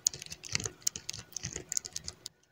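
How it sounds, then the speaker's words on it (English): Rapid plastic clicking from the knee joint of a ToyBiz Marvel Legends Rhino action figure being bent, with dense, close ratcheting ticks for about two seconds before they stop. "you can hear that clicking there"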